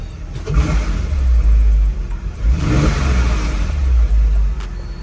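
A Porsche with a six-speed manual transmission accelerates hard through the gears, its engine rising in loud, close revving pulls with a brief dip at each shift over a deep rumble.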